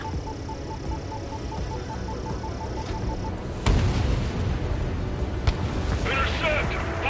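Bombs dropped on anti-air radar vehicles in the combat flight game Ace Combat detonate in a sudden loud boom, followed by rumbling blasts and crackling fire over a steady engine drone.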